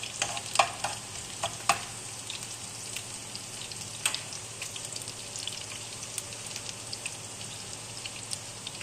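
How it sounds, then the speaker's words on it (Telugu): Garlic frying in hot oil in a pan while cooking gongura chicken curry, a steady close sizzle dotted with sharp crackles and pops, no voices. "ఆయిల్ వేడెక్కిన తర్వాత ముందుగా మనం ఎల్లుల్లిపాయలు వేసేసుకోవాలి."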